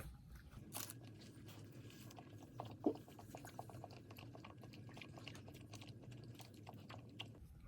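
Quiet close chewing of a 7-Eleven bacon sandwich with cream cheese on chewy bread in Japan, soft moist mastication with a few faint crunchy bites over low room hum, no talking.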